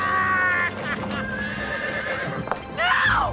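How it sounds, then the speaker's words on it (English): A horse whinnies loudly and close, with hooves clip-clopping alongside and a second rising neigh near the end, while voices are heard briefly. "It's Champion the Wonder Horse!"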